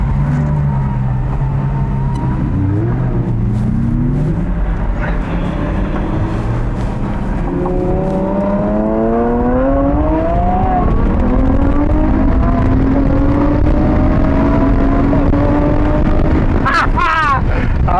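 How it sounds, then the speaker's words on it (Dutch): Lamborghini Sian driving past, its engine note climbing steadily through revs and rising gears, loud and close under wind noise, with a person talking over it. "En hier gaat de Sian hoor, let op."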